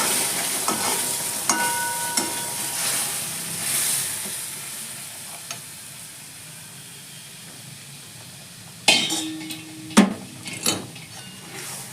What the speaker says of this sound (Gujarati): હલાવતી પણ જવું પડે.